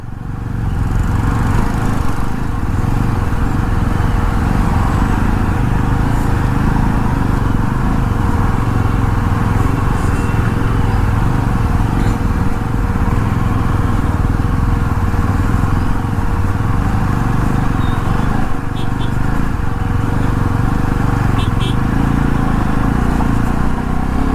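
Motorcycle engine droning steadily as the bike threads off-road through heavy traffic on rough, dusty streets in hot Delhi, a continuous loud buzz with road noise and no pauses.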